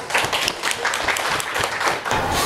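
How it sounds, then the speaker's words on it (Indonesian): Classroom applause for a student in a junior high Indonesian-language lesson, many hands clapping steadily and fairly close for a couple of seconds with no talk over it. "Beri tepuk tangan untuk Ais."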